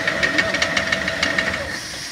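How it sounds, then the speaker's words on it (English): An IMER Koine 4 plaster pump runs with its rotor turning, making a steady mechanical chugging with rapid rhythmic knocks over a hissing, whining drone, loud and close without any voices. "we're going to turn the pump on a little bit"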